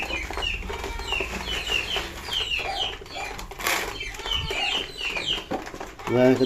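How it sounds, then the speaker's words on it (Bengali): Chicks on a small poultry and pigeon farm peep and call loudly and persistently for their mother hen, with clucking and a brief wing flutter mixed into the close, busy chatter. "এই মুরগির বাচ্চা খুব ডাকাডাকি করতেছে, ওর মা আরে খুঁজে পাচ্ছে না, এই জন্য খুব ডাকাডাকি করতেছে"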